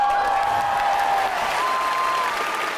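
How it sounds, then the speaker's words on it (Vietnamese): A studio audience on a Vietnamese TV entertainment show claps loudly in a dense, continuous round of applause, with a sustained musical tone ringing underneath. "Một tràng pháo tay thật lớn chưa quý vị?"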